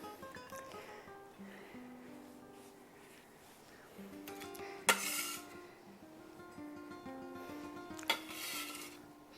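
Tender cooked birria meat being scooped onto a plate, soft scraping and clinking of a utensil against a pot with two sharper knocks, close and moderately quiet.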